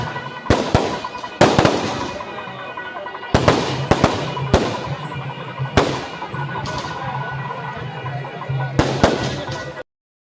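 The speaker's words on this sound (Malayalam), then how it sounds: "പിന്നെ വെടിക്കെട്ട് കുറച്ച് നേരം നമ്മൾ അവിടെ നിന്ന് വെടിക്കെട്ടൊക്കെ കണ്ടായിരുന്നു" Fireworks at a temple Shivaratri festival: loud sharp bursts in irregular clusters, several close together, ringing out over a steady crowd hum.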